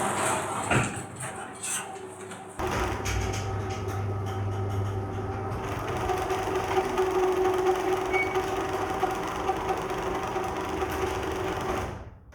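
A garage door opener fitted with a 3D printed timing pulley runs with a steady mechanical hum and rattle after a click, then stops abruptly near the end.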